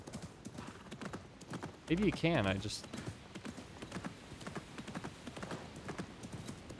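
Horse hooves clip-clopping at a steady walking pace in the Assassin's Creed Mirage video game, with a short whinny partway through, while a player talks over it.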